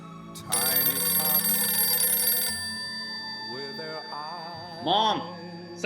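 A telephone rings loudly for about two seconds, then stops. A voice follows, with a brief raised call near the end.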